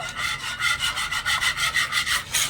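Milk powder is stirred steadily into rabri for mohanbhog sweet, giving a close, loud, rhythmic rubbing scrape, roughly four strokes a second with no voices.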